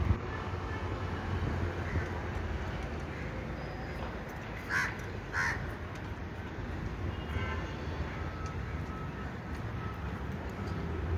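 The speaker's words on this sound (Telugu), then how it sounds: "పచ్చని వాతావరణము పిట్టలు కాకులది ఎంతో ఆదరమైన మధురమైన రాగాలు చూడండి ఒకసారి" A few crow caws ring out in the distance from above a garden and pond, over a steady low rumble of background noise, with no one talking.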